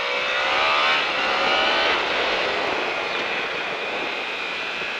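A 1001 cc racing engine revs hard on a track at La Ferté-Gaucher, a loud, steady high-pitched drone that holds near and constant with slight pitch shifts, no voices over it.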